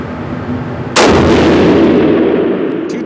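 A single loud rifle-type gunshot from a Hornady ammunition test round, a sharp close blast followed by a long booming outdoor echo that fades slowly.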